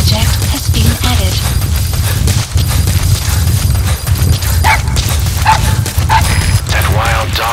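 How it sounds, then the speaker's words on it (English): A wild dog pup in the video game Metal Gear Solid V yips and barks in short bursts over a low rumbling game soundtrack. "That wild dog pup. He's a tough little guy."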